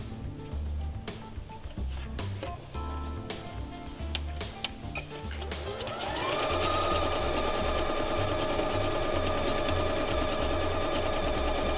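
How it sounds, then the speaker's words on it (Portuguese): Sewing machine stitching a straight seam on a children's drawstring bag or pencil case, its motor starting up partway and then running at a loud, steady, even pace with no talk. "Aí a gente vai pra máquina e vai passar só uma costura reta aqui"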